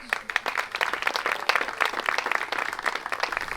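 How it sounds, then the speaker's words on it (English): Audience applause for a family at a gathering: a loose, uneven patter of individual claps from a modest group, fairly close and continuing throughout. "Get a round of applause for the Lee's family."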